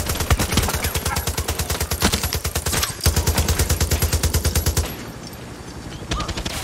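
Rapid automatic gunfire in Far Cry 6, loud sustained bursts of machine-gun shots in a steady rattling rhythm, briefly broken and then resuming, close and dominant with no talk.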